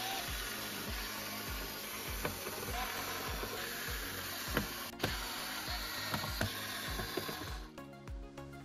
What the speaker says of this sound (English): To remove the motherboard, we will need to take off 10 screws.